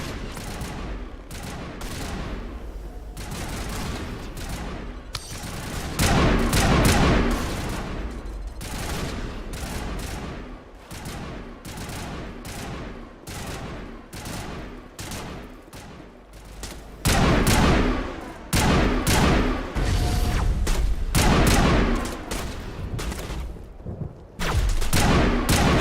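Dense, loud gunfire and booming blasts rattle through a battle in the video game Mass Effect (Legendary Edition, first game), with sustained volleys broken by heavier surges and short lulls and no voices.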